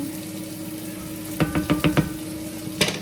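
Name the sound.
stirring food frying in a pan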